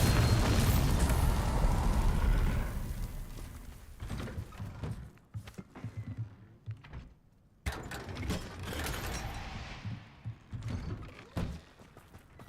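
Bombarda spell explosions in Hogwarts Legacy land as a loud, roaring blast that fades into scattered crackling debris and mechanical clatter, followed by another sharp burst and more rumbling impacts.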